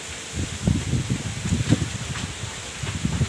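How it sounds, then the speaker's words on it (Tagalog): Strong gusty wind before rain buffeting the microphone in uneven low rumbles, with a faint rustle of leaves in the background and no speech. "So ayan na, lakas na ng hangin. Ang lakas ng hangin."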